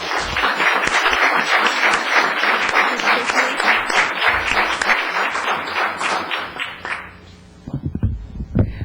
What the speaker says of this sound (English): Applause, please, for her